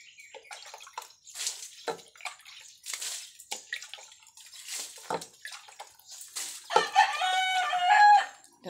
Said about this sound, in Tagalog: Itong dinidilig ko guys, tubig ulan.